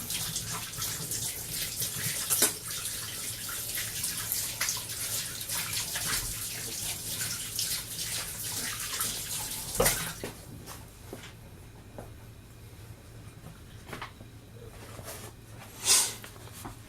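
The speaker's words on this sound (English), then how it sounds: "I'm just going to wash my hands quickly." A tap runs in a kitchen as hands are rinsed clean of sticky shortbread dough, a steady broadband wash of water with a few sharper splashes and knocks, close and moderately quiet, with no talking.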